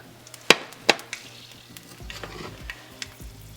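Garlic and onion sauté in hot oil for chole masala, opening with two sharp clacks before a low, steady sizzle with occasional stirring noises and no talking.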